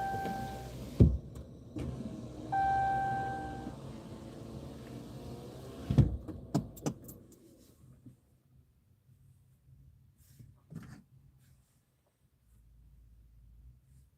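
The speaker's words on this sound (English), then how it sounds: "I gotta roll my window up" A car's electric power window rolls up with a steady motor whine lasting a few seconds, followed by a couple of sharp knocks and a thump as the glass seats, then near silence.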